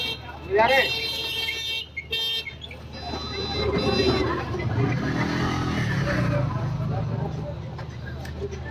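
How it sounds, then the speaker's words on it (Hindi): An auto rickshaw engine idles and runs with a steady buzzing rumble on a road in Vrindavan, preceded by a couple of short horn-like toots, while someone talks over it. "तो हमारी ये गाड़ी हो चुकी है स्टार्ट।"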